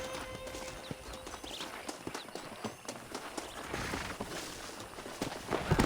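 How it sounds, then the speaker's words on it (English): Horse hooves clip-clop in the Western video game Red Dead Redemption on PC, a brisk, irregular run of hoof strikes with faint background ambience. "let's see if we can't wrangle some horses"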